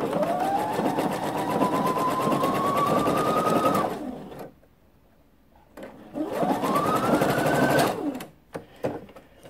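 A sewing machine runs a blind hem in two bursts of steady fast whirring stitching, each about four seconds long, close and clear, with a short quiet pause between them and small clicks at the end.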